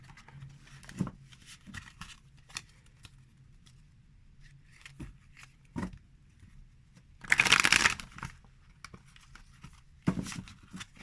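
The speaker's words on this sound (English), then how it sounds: "this is one method of pile shuffling" Tarot cards from a large new deck being pile shuffled, giving soft scattered taps and one louder burst of riffling card noise near the middle, with quieter handling clicks around it.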